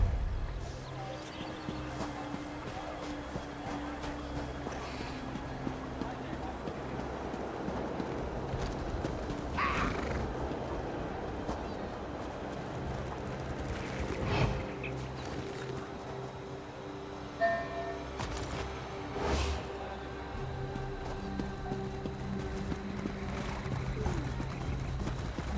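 Horses in The Elder Scrolls Online give occasional neighs and hoof clops over a steady low game ambience, with several short louder accents spread across the stretch.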